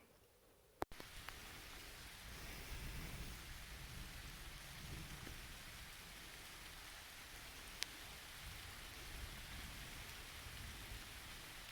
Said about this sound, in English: Leaving just in time. Storm's coming in.